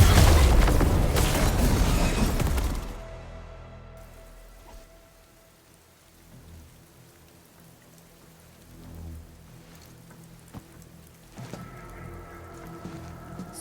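A video game weapon fires after a target lock, a loud burst with a booming, rain-like crackle that fades within a few seconds into quiet ambience.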